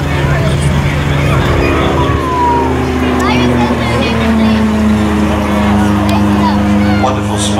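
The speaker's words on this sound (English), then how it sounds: "This aircraft is flown today by Tim Jews" Silence Twister aerobatic aircraft engine at an air show, a steady droning propeller tone with slowly shifting pitch as it passes, heard under a commentator's continuous talk.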